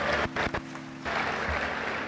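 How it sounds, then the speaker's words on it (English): Congregation clapping in praise at a church revival, a short, fairly faint burst of hand claps broken by brief pauses, with a low steady hum beneath. "Give the Lord a hand clap of praise."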